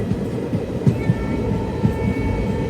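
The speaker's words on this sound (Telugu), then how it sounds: "ట్రైన్ కూడా స్లో అయింది" Narsapur Express train running slowly, a steady low rumble with soft rhythmic clatter of the carriages and faint higher squeals, heard continuously from inside.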